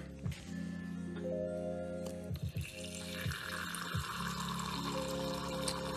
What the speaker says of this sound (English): Refill the water